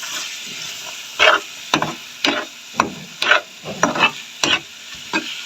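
Brain masala cooking in a pan over low heat, a soft continuous sizzle broken by about ten distinct stirring scrapes at an uneven rhythm, close and clear.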